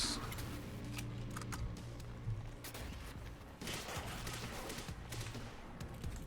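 Rapid bursts of gunfire from the video game Quantum Break, including slow-motion shooting, come as repeated sharp cracks and booms layered over dense game ambience and music.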